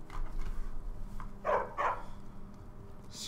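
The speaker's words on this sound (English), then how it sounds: "Stop barking!" A dog in the Skyrim video game gives two quick, close barks in a row amid faint game ambience.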